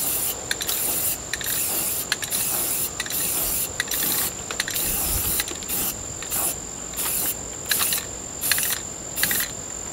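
Rust-Oleum clean metal primer is sprayed from an aerosol can onto metal in a dozen short bursts, each a crisp hiss with the can's rattle between passes, close and steady.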